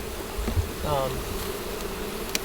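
A steady drone of honeybees buzzing close by in hive boxes during a honey harvest with a smoker, continuous and even, with no speech.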